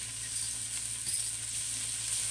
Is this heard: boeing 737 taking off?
no